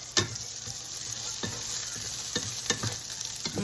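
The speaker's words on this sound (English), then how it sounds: "I'm just going to saute these. I'm going to add a little bit of olive oil" Onions sautéing in olive oil in a pan, a soft steady sizzle punctuated by several sharp utensil scrapes and taps from stirring, heard up close with no talking.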